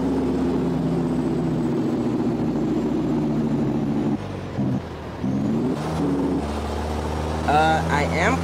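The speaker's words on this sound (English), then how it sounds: "the Peterbilt 386 with the Caterpillar 3406E engine" A simulated Peterbilt 386 truck with a Caterpillar 3406E engine in a truck video game, a steady deep diesel drone with a brief dip and a hiss near the end, under quiet talk.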